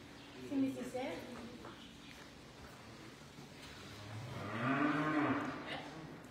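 A cow during restraint-handling training, pushed from behind to walk forward, gives two loud moos, a short one early and a longer drawn-out call later, over low farm background noise with people talking nearby.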